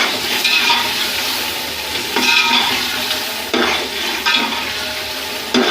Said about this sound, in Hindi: अब इस मसाले को और मटरों को हमने 10 मिनट के लिए भूनना है